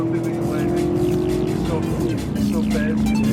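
Car engine revving hard and shifting as it overtakes on a hill road during the Gumball 3000 rally, a loud close roar with a pitch drop mid-way and voices faintly underneath.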